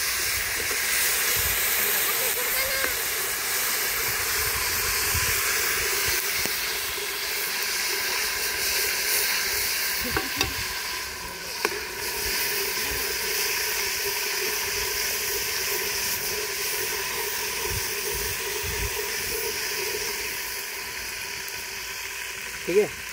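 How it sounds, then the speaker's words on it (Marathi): Ginger-garlic paste goes into hot oil with cumin for a biryani cooked at a farm, producing a steady, loud hissing sizzle that lasts throughout while a voice talks over it. "आता थोडा टाकायचा याच्यामध्ये अद्रक लसूणची पेस्ट."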